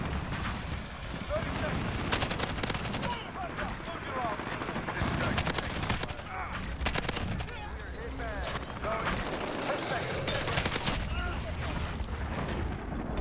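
Dense, loud video game gunfire fills a competitive shooter match, with rapid overlapping bursts of shots and blasts sounding almost continuously from start to finish.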